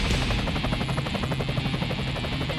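Black Hawk helicopter engaged in sling-load sandbag operations, its loud, steady rotor thump and turbine roar filling the air close by with a continuous pulsing beat.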